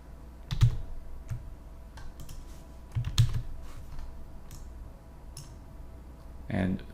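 Computer keyboard keys being typed in short bursts of clicks, a few louder taps standing out against a quiet room hum, close and moderately soft.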